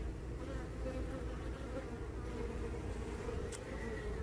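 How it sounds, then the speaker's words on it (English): Bees swarming around a backyard beehive make a steady, low droning buzz that fills the air continuously at close range, with no voices. "there's a bee landing on my thumb"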